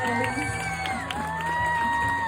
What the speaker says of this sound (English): Let's give a big old round of applause.